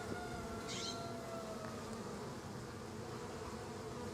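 Honey bees buzz steadily inside an opened hive, a dense, even drone close by that holds at a constant level throughout, with no voices.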